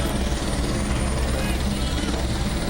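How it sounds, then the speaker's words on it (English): A helicopter thunders overhead at a high school football game, its loud, continuous rotor and engine roar filling the scene while commentators talk beneath it. "That helicopter is pretty loud."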